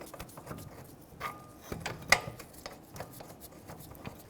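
Hand ratchet snugging the front brake caliper bolts on a 2004-2008 Ford F-150, quiet clicking pawl strokes in short irregular bursts with one sharper metallic click midway, close and alone without talk.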